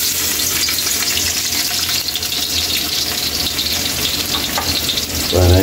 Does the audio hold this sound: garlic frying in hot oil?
yes